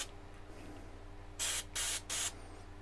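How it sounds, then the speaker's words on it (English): Carb cleaner sprayed through a Honda Hornet CB 600 carburettor comes as three short, loud hissing bursts in quick succession over a quiet background hum. "Then we grab a can of carb cleaner and we give it a spray."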